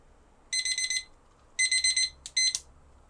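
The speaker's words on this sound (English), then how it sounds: "this is a little timer" A small kitchen timer in a Japanese shop rings in short bursts of rapid high-pitched beeping, two longer trills followed by a couple of quick clipped beeps, loud and close.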